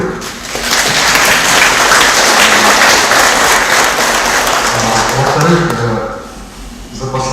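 Sustained applause from an audience at a presentation, dense clapping that swells quickly and carries for several seconds before fading, with a voice speaking faintly near the end.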